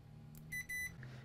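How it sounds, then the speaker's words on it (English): Two short electronic beeps from a multimeter in quick succession, clear and close, over a faint low hum, followed by a softer tone. "You may hear an initial beep,"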